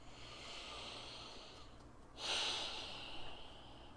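Close, soft breathing during a head-tapping exercise: a long airy inhale, then a sharper, louder exhale through the nose, alone without talk.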